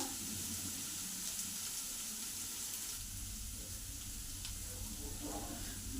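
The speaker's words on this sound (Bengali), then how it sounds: "এই রসুনটা দিয়ে দিই, এটা ভাজা হোক।" Crushed garlic fries in a pan with a low, steady sizzle that runs for several seconds, faint and even, with a slight change in the background partway through.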